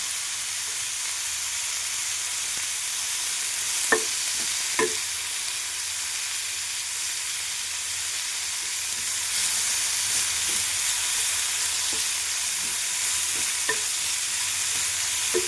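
Curry leaves and capsicum sizzle and fry in a hot pan, a steady broadband hiss that runs without a break, with a few faint scrapes of stirring.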